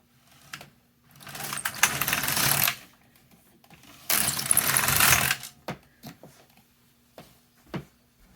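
A knitting machine's carriage sweeps across the needle bed twice, knitting large loose stitches in waste yarn, each long mechanical whirring pass followed by scattered clicks and clacks nearby.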